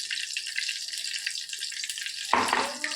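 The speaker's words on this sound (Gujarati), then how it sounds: "જીરું થોડું તતરી જાય" Cumin seeds splutter in hot oil while tempering a Gujarati dish, a steady close sizzle throughout that thickens into a louder burst of crackling near the end.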